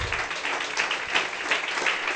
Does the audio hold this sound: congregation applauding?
yes